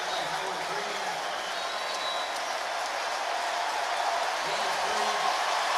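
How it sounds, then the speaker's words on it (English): A football stadium crowd roars and applauds for a Tampa Bay first down in a 2009 Jets–Buccaneers game, a dense, sustained, loud wash of cheering throughout. "It's the loudest cheer we've heard all day."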